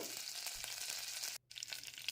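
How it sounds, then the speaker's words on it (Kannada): Garlic and curry leaves fry in hot oil with a steady, close crackling sizzle for about two seconds, broken by a sudden brief drop in the sound before the frying resumes. "ಬೆಳ್ಳುಳ್ಳಿ ಹಾಕ್ಕೊಳ್ತೇನೆ ಹಾಗೆ ಕರಿಬೇವನ್ನ ಹಾಕ್ಕೊಳ್ತೇನೆ ಬೆಳ್ಳುಳ್ಳಿ ಸ್ವಲ್ಪ ಫ್ರೈ ಆದಮೇಲೆ"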